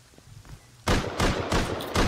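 Gunfire in a shooter video game breaks in after a quiet moment as loud, rapid bursts of shots, repeating several times in quick succession.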